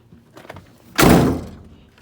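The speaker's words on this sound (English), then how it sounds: "now y'all see the door is closed" A Chevrolet Monte Carlo SS door, fitted with a new latch, swings shut with a single solid, close thunk, preceded by a few faint handling noises and followed by quiet.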